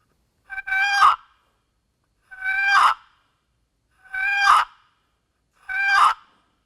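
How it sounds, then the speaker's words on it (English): Turkey box call with the paddle dragged across the sidewall: four separate raspy, harmonic notes, each about half a second long and evenly spaced, close and clear with no other sound between them. "to get a basic note on a box call, you simply drag the paddle across the sidewall"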